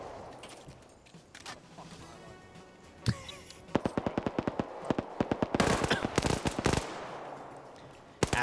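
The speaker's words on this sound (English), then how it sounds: "I'm hearing some distant 50 cal fire" Heavy .50 caliber machine gun fire in a PvP shooter game, starting with scattered shots and building into rapid rhythmic bursts that sound somewhat distant and echo, with a final shot at the end.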